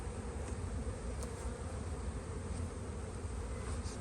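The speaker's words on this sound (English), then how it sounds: "All the bees back in the box." A dense, continuous buzz of many honeybees swarms around an open hive box during a spring inspection, loud and unbroken throughout with no voices.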